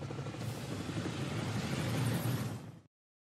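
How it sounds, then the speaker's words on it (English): A helicopter in a Call of Duty Warzone cutscene makes a dense, steady rotor-and-engine roar, fairly loud and unbroken for nearly three seconds, then cuts off abruptly to silence. "it'll play this little video of like a helicopter."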